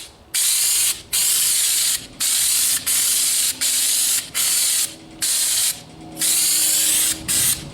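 Spray gun applying DIY bedliner to a Ford Maverick truck bed at about 40 psi, loud close hissing bursts of roughly half a second each, repeated in an even on-off rhythm with brief gaps.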